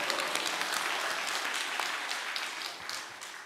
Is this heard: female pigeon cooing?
no